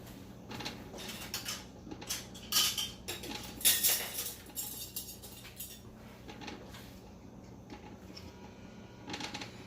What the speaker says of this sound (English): So I'm going to go ahead and put my lids on those two.